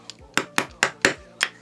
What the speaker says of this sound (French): Je vais essayer de la faire rentrer. Hop, avec un marteau.